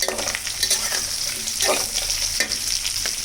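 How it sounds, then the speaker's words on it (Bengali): Cauliflower pakoras sizzle steadily as they fry in hot oil, with a constant crackle and occasional stirring scrapes throughout, close and fairly loud, with no voices. "আর 5 মিনিট ভাজলেই হয়ে যাবে ফুলকপির পকোড়া।"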